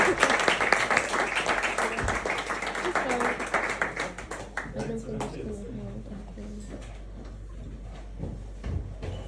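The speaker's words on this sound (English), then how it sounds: "Give me a round of applause." Audience applause and cheering greet a returning performer taking the stage at the Brunswick, loud at first and then thinning out, with voices talking over the clapping as it fades.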